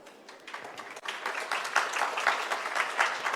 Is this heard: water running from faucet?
no